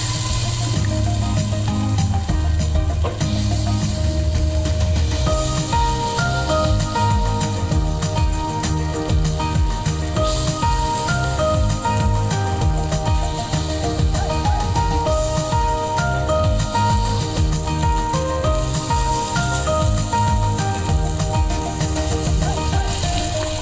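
Chocolate dry fruit appe batter sizzles steadily in a ghee-greased appe mould, a dense continuous frying hiss that stays loud and even throughout, with music playing underneath.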